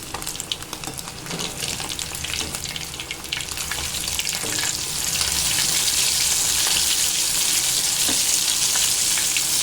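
Vanjaram seer fish fries in a pan in a loud, close, continuous sizzle with crackling pops that grows denser and brighter toward the end, with no talk.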